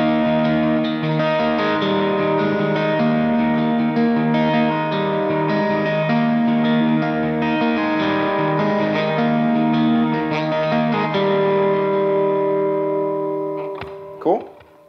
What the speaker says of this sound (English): And this is what it sounds like with effects.